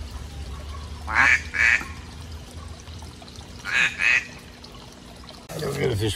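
Ducks at a backyard fish pond give two pairs of short, close quacks, with running water and a brief burst of other sound at the end.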